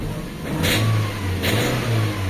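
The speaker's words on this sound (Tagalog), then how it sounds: "meron tayong nadidinig na maingay dun sa makina" A Toyota Corolla engine with a misfire revs up twice in quick succession, its mid-pitched roar swelling and dropping with rough, uneven pulses, close and loud with no talking.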